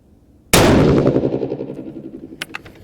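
A single loud crack from a 6.5 PRC rifle fired at a target rolls out into a long echoing tail, followed by a few faint clicks.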